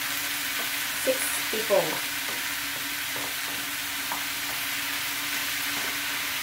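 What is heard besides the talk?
food being stirred and browned in a pan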